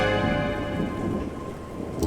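Night thunderstorm outside, with steady heavy rain hiss and a low, rolling rumble of thunder that fades slightly over two seconds, continuous and fairly loud.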